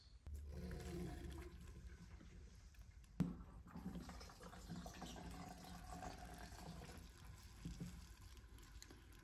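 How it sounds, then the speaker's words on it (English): Fuel flowing through a pump and spilling from its outlet into a fuel can on a '63 Corvair: a steady liquid rush and splash, with one brief knock partway through. "Fuel is flowing through this pump."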